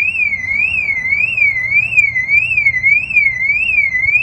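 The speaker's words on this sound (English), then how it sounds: "The alarm fires off." Loud Mercedes-Benz car alarm wailing alone after the tire is kicked, its electronic tone sweeping rapidly up and down in a steady repeating cycle, close by.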